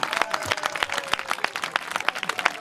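A crowd applauds steadily, many hands clapping in a dense, lively patter that holds for a few seconds.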